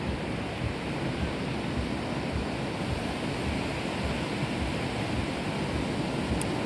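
Sea surf rolls continuously onto a beach, a steady, full roar of breaking waves with a broad rushing wash and no pauses or voices.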